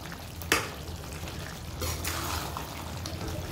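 Fried onions go into a pan of masala, giving a soft, steady pouring and sizzling rustle with one sharp knock near the start and a brief swell of frying midway, low and continuous.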